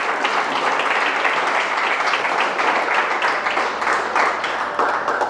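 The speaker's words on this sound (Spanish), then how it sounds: "Un aplauso, mis hermanos, a nosotros" A church congregation applauds together in a sustained, dense wash of clapping that fills the room evenly from start to finish, with no pauses.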